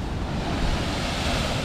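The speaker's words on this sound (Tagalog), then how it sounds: "yung hampas ng tubig sa bato ay ang lakas na talaga, at saka high tide ngayon" High-tide ocean waves pound against rocks at Astwood Park during Hurricane Earl, a continuous loud roar of surf mixed with heavy wind buffeting the microphone, steady and unbroken throughout.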